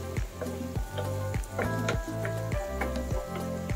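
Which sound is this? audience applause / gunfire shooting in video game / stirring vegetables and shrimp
stirring vegetables and shrimp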